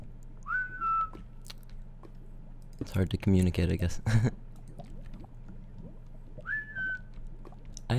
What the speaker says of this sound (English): I hear that whistling, I think.